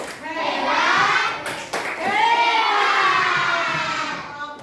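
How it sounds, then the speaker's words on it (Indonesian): A class of children claps the rhythmic 'tepuk hebat' cheer in an Indonesian classroom, a dense run of near hand claps blended with loud young voices chanting together throughout. "Kita bilang tepuk hebat."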